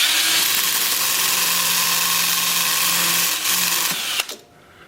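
Sandpaper rubs on a spinning wood trivet blank on a lathe, turning at about 300 RPM. The machine whirs loud and steady with a continuous hum, then stops abruptly near the end and spins down.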